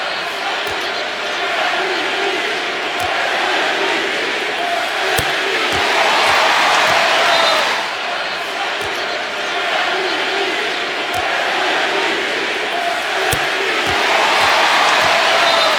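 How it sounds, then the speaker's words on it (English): Basketball fans in an arena at a Golden State Warriors game roar and chant in rhythmic waves, a loud crowd swelling and easing, with sharp bounces and thuds cutting through now and then. "Take a listen to what the fans are cheering."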